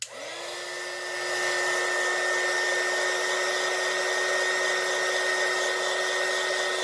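A hair dryer switches on and blows continuously at close range to dry alcohol ink on a painting, rising quickly to a loud steady whine that holds throughout without speech.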